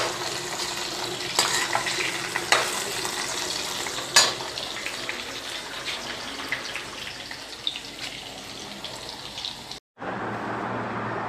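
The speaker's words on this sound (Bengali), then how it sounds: "এখন দেখেন আলু ভাজা হচ্ছে।" Potatoes frying in a pan with eggplant, spices and onion, giving a steady close sizzle with occasional stirring scrapes and clicks, then a brief cut and a slightly different sizzle toward the end.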